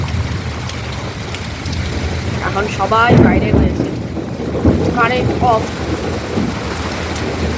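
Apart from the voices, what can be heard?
heavy rain and thunderstorm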